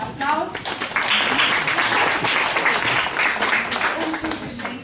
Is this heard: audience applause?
yes